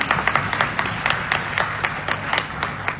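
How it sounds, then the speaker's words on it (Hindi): An audience at a political rally claps in a scattered, uneven rhythm, individual hand claps standing out as sharp bursts over a softer bed of applause, moderately loud and without speech. "आलम के लिए ताली बजनी चाहिए"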